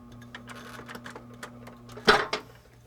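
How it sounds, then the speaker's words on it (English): A sewing machine stitches the back of a tendon guard with a steady low hum and a run of quick ticking clicks, then a couple of louder knocks near the end. The sound is fairly quiet overall. "I can sew basically the back of the tendon guard as I start"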